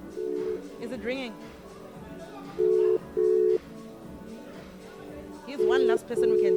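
A phone call rings out in repeated paired tones with pauses between them, heard under people talking and laughing nearby.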